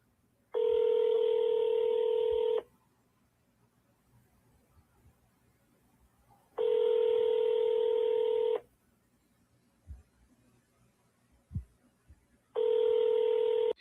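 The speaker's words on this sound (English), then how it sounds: "All right, let's try to call Marilyn again." Touch-tone telephone keypad tones sound during a real estate follow-up call, with three sustained multi-frequency bursts of about two seconds each, evenly spaced and loud, separated by quiet gaps with a few faint clicks.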